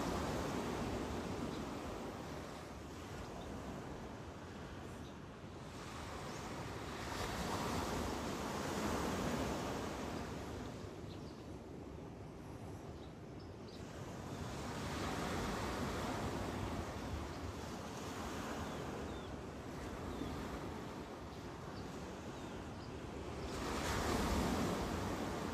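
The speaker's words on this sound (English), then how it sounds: "I wonder, can y'all hear the waves?" Ocean surf rolling in along a shore in the Philippines, a broad continuous wash of waves with slow swells rising and falling, fairly distant and steady with some wind noise.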